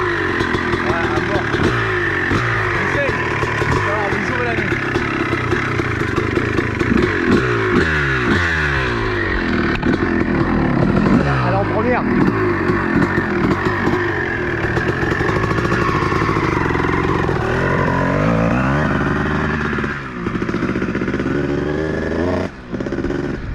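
A 2021 Honda CRF dirt bike engine revs and drones continuously, rising and falling in pitch as it rides, with people talking over the motor.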